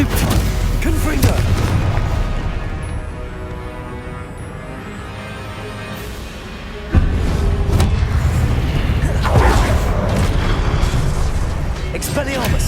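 Spell blasts from the Confringo fire spell in the Hogwarts Legacy video game, heavy booming bursts layered over game music and a sustained rumble, with a sharp louder impact midway and continuous dense action throughout.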